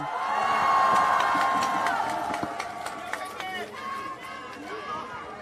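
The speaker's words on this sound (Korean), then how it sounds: "큰 박수 함성으로 맞이해 주시기 바랍니다." A crowd at an outdoor political campaign rally in a station square cheers, whoops and applauds to welcome a party leader, voices shouting over a steady roar with sharp claps scattered throughout.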